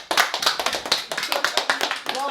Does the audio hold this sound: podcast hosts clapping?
yes